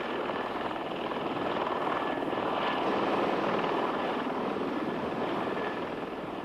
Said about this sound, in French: le Bell XV-3 est prêt pour son premier vol stationnaire